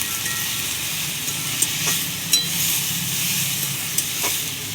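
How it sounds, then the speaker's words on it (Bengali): Onions fry in a pan over a lit stove, a steady close sizzle and hiss with a few soft stirring scrapes and clicks, no talking. "তাও পেঁয়াজটাকে ভালো করে লাল করব।"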